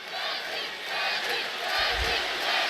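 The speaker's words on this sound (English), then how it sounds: "The crowd chant Deji." Boxing arena crowd at a Deji fight, a loud continuous roar of many voices with rising and falling chanting, filling the space with no single voice standing out.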